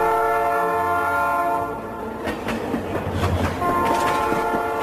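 A train on a Colombian railway sounds its horn in long sustained tones, then wheels clatter and rumble along the track close by, with the horn returning near the end; no talking.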